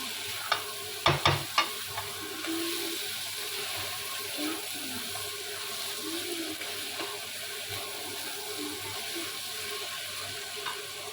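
Spice masala with salt frying in a pan for egg tadka, a soft continuous sizzle with a few sharp scraping knocks of a spatula early on, then quieter bubbling under occasional stirring.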